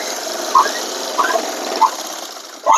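A sewing machine stitches a kaja patti, the buttonhole strip on a garment, running with a steady close mechanical whir. Light clicks and bumps break in now and then.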